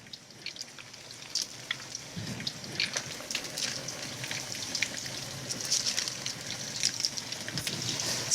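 Quinoa and cheese meatless meatballs crackle and spit in hot frying oil, a close, fairly quiet bed of sizzle dotted with scattered pops that grows a little busier toward the end, with no voices.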